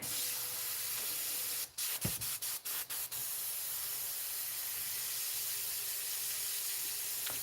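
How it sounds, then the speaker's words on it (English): An airbrush sprays paint in a steady close hiss that runs throughout, broken briefly by a quick series of short stops and restarts. "Okay, the airbrush."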